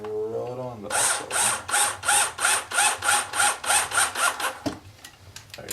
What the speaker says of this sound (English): and drill it on the side.